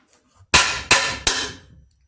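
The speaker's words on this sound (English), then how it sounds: "the normal way, you'd use a hammer" Three sharp hammer blows close up on a box nail, evenly spaced strikes each ringing briefly and decaying, with a faint tap before them.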